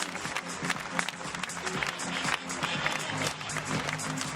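Applause from the audience for a Class 40 sailor at the Route du Rhum 2014 trophy ceremony, steady clapping over a murmuring crowd and faint low background tones, moderately distant and continuous.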